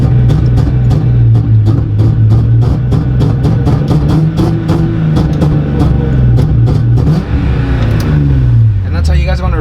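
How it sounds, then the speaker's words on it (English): A Nissan 350Z/370Z-family car engine holds a steady, loud rev on launch control, a sustained drone with rapid limiter stutter, dropping off near the end. "first gear, clutch in, and then mash the accelerator"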